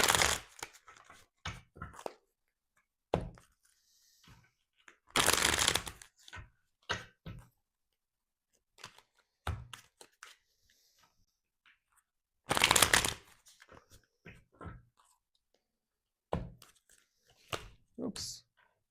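Tarot cards are shuffled in several bursts of riffling and flapping. Quieter taps, handling noises and a soft voice come between the bursts.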